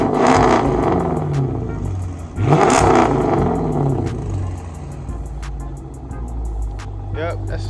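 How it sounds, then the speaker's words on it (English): A 2014 Dodge Challenger R/T with straight pipes revs hard, its loud, close roar swelling and falling in a couple of throttle blips, with a voice talking briefly near the end. "we're gonna do a couple revs here"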